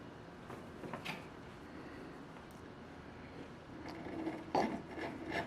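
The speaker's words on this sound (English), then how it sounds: "just using the gouge again" A hand gouge carves a UHMW plastic dresser drawer stop, making soft, uneven scraping and rasping strokes with a few sharper scrapes near the end, close but quiet.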